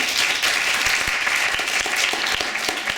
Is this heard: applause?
yes